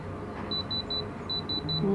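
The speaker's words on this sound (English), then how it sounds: "The diamond selector went all the way up past the last bar and it's beeping like crazy" Electronic diamond tester beeping on a real diamond, two bursts of three quick, shrill, evenly spaced beeps, close and clear above a low hum of background noise.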